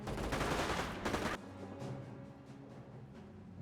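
Gunfire in the WWII strategy video game Company of Heroes: a loud burst of overlapping shots at the start that stops abruptly, followed by quieter scattered distant reports.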